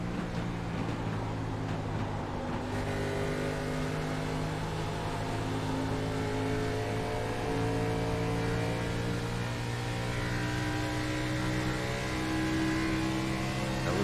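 Sim race car engines at Kentucky Speedway oval, a steady droning throttle hum with layered engine tones held throughout, continuous and moderately loud with no talk.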